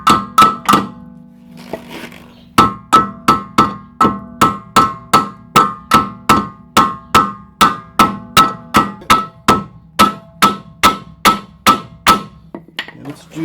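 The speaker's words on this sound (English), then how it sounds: "You're going to come over here with the hammer. You're just going to tap." A hammer taps out a rear trailing arm on a 2004-2008 Pontiac Grand Prix, about two dozen sharp metallic strikes in an even rhythm, close and loud, after three opening blows and a brief pause.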